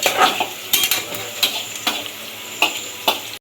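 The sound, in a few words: onions frying in pot for chicken biryani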